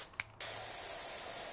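A pressure washer in Powerwash Simulator 2 starts up after a brief click and then sprays in a loud, steady broadband hiss that continues to the end, close and alone.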